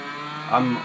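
Yamaha RD250LC two-stroke motorcycle engine in Tourist Trophy on PS2, a steady droning hum with a brief rise in pitch partway through.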